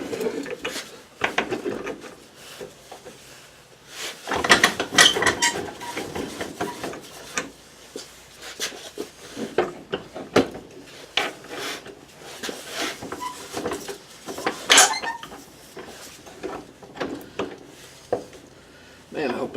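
A ratchet turns a 3/4 inch socket in a workshop with irregular clicking, scraping metal handling and knocks spread over the stretch, moderately close, with occasional talk between sounds.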